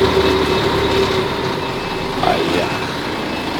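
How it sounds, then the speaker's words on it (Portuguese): A Mercedes-Benz 1519 dump truck idles loudly as reverse gear is gently engaged, a steady diesel rumble with a faint mechanical clunk partway through. "Aí engata a ré suave."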